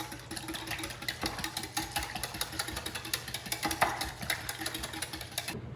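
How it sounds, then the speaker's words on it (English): A whisk stirs homemade Worcestershire sauce with turmeric in a bowl, giving a steady, fast rhythmic scraping and ticking close up that runs without pause and with no talk. "And then we are going to whisk this up."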